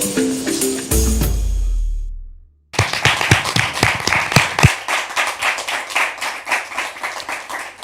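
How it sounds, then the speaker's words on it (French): A TV studio audience on a French-language Christian channel breaks into hearty, dense applause after a brief musical sting and a moment of silence, the clapping loud and sustained to the end. "C'est par ces applaudissements nourris que nous vous souhaitons la bienvenue."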